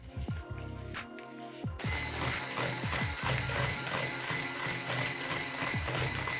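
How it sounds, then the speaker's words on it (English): An electric hand mixer beats an egg into almond cookie mixture, starting with a few short bursts and then running as a loud, steady whir with a rhythmic mechanical rattle, close up and with no talking. "After mixing the egg into the mixture, add the second egg and continue mixing."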